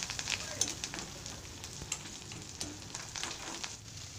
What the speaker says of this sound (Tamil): இது எல்லாம் நல்லா பொன்னிறமாக வதங்கணும்.